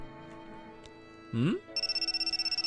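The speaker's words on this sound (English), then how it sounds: "All of a sudden, I hear my phone ring" A phone ringtone sounds in the visual novel Sankaku Renai: a steady run of rapid, evenly pulsing electronic beeps begins partway through, clear and prominent. Just before it comes a short voiced sound, with soft background music underneath throughout.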